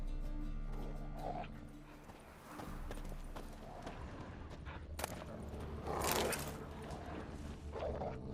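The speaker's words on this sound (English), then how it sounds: "Just beware of the dogs." Dogs bark and whimper in the Witcher 3 video game over a dense bed of ambient game noise, with several short yips and whines mixed together.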